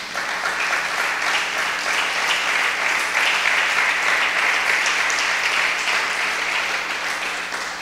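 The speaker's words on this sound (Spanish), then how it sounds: "¿Cuánto le da un aplauso al Señor," A church congregation applauds steadily for nearly eight seconds, a dense, loud, continuous wash of clapping with no break and no speech over it.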